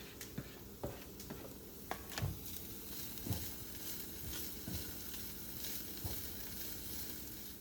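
Fresh ginger and garlic sizzling in a pan for a Thai red curry: a steady crackling fry with sporadic sharp pops and small clinks of stirring throughout.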